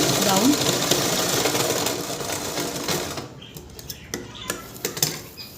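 Sewing machine stitching a fall onto saree fabric, a loud steady whirring run for about three seconds, then stopping into scattered clicks and handling knocks; a voice talks briefly.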